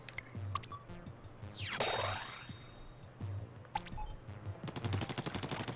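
Rapid, evenly spaced shots from an upgraded ink gun in Splatoon's single-player mode, a fast rattling burst near the end, following scattered shots, sweeping whooshes and chiming game effects.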